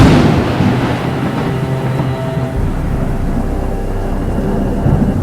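A thunderstorm rumbles in a loud, deep, continuous roll, heavy at first and easing slightly, with no voices.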